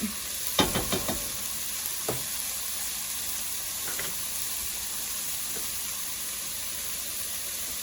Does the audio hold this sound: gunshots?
no